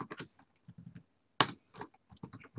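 Java code being typed on a computer keyboard: short, close clusters of crisp key clicks in uneven bursts, with one sharper, louder tap partway through and brief pauses in between.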